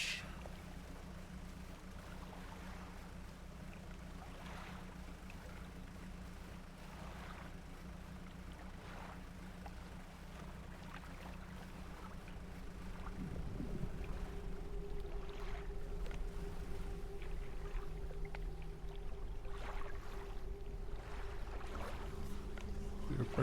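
Steady wind and lapping waves surround a small boat in the video game Dredge, a low continuous rumble with a faint engine-like drone that swells louder partway through.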